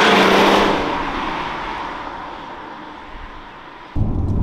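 A BMW E90 330d LCI M Sport manual diesel saloon gives a loud roar that fades away over a few seconds, followed by a sudden burst of rumble.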